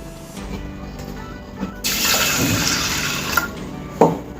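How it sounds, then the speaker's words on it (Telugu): Water runs steadily for a few seconds, with splashing and stirring sounds as three kinds of lentils are rinsed in a bowl, ending with a louder slosh. "ఒక 2 టైమ్స్ ఇలా వాటర్తో కడిగేసి"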